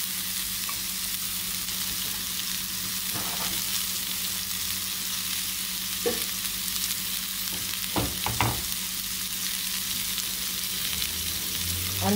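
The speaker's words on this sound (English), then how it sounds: "while the onion is first cooking, I'm going to hit this with the" Onion and carrot frying in a pan for escoveitch king fish give a loud, steady sizzle throughout, broken by a few soft scrapes and stirring knocks.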